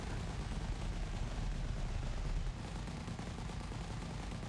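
Multi-cannon fire in the space combat game Elite Dangerous, a dense, continuous roar of rapid automatic gunfire held at steady loudness from start to finish with no pauses.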